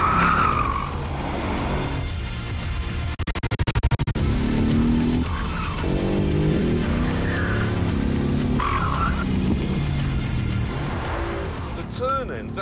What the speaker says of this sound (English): There's so much techie stuff on the GTR, in fact, that it is really very fast and extremely well sorted out.